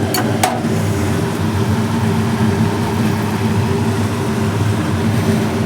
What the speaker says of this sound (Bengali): আর চিমনির আওয়াজে আমার মাথা গেল